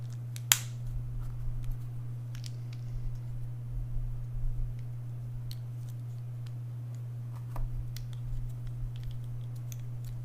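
Sparse, quiet clicks and ticks of Lego parts being handled, with one sharper snap near the start, over a constant low hum.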